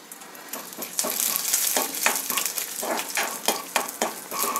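Chana dal frying in a little oil in a pan for a tempering: a close, steady crackling sizzle broken by repeated sharp stirring scrapes, with no talk.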